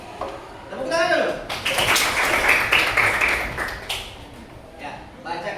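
Classroom students clap their hands together in a dense burst of applause lasting a few seconds, with a teacher's voice heard briefly before and after.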